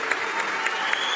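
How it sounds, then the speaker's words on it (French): A standing crowd at a Basque pelota event in Biarritz applauds a star player in dense, sustained clapping with a few sharper claps standing out, loud and without speech. "Applaudissements nourris"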